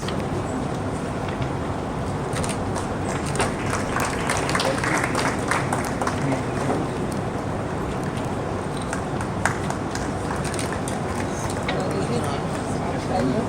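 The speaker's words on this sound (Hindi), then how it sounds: "जोरदार तालियों से प्रोत्साहन वर्धन करते रहिए।" Audience applause at an environmental guardian award ceremony at a university, steady dense clapping throughout that runs continuously with light crowd noise mixed in.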